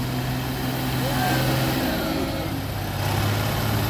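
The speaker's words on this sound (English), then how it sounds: "A Mr. Matt Capel, John Deere 4010." A John Deere 4010 farm stock tractor's engine drones and revs at a county fair tractor pull, loud and steady throughout, with a voice talking over it.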